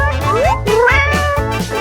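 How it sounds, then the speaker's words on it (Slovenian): A cat meows close by, a run of several short, whiny calls with rising and falling pitch in quick succession. "Ne pozabimo na mucko."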